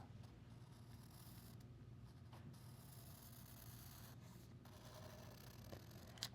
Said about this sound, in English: And then we just follow that really quickly with a pencil.